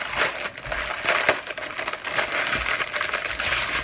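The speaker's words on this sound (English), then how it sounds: "Sorry about the crinkling." Plastic packaging from an online art supplies haul crinkling and crushing continuously up close, loud, dense crackling with no talk.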